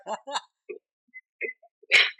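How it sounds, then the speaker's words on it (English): A single sharp sneeze bursts out loudly at the end, after a few soft, scattered vocal sounds and quiet breaths. "Achoo!"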